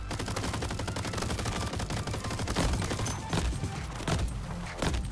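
Crabs firing shotguns in a video game, a constant, crackling fusillade of overlapping gunshots with heavier booming blasts mixed in, loud and unbroken from start to finish.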